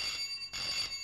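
An old telephone bell rings in two quick bursts of shrill, steady trilling, fairly faint and heard alone without talk.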